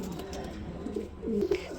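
Cream bar racing pigeons coo in a couple of short, nearby bursts near the end, over a low background rumble.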